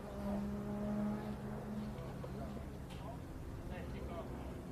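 MG Car Club race cars run along the back of the track, a distant, droning engine hum that holds steady beneath continuous commentary.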